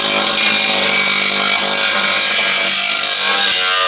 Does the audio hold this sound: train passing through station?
no